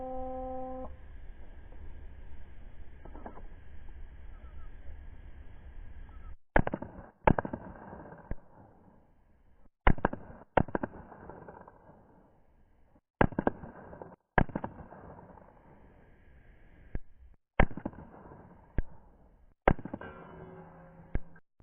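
Pistol shots from a CZ P-09 at a range, about eight sharp loud cracks spaced a second or two apart with short echoing tails, no speech.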